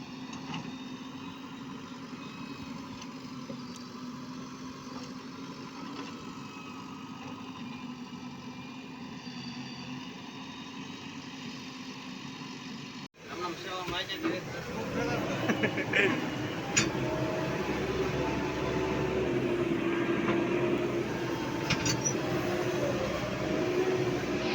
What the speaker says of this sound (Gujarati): તો આવી રીતે ફેરા ભરે છે જીસીબી